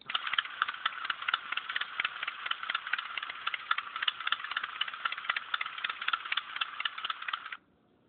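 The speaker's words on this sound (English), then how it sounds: "That's just my alert tone, telling me that I have a email or a message, something." An electronic alert tone chugs in a fast, steady rattling pulse like an idling motorcycle engine, running for several seconds before cutting off.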